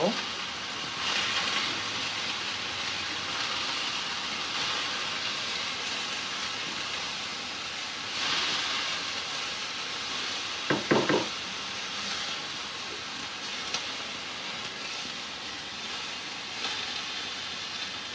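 Squash frying in a pan with salt, giving a steady, faint hiss that runs throughout, with a brief clatter of stirring in the middle and no speech.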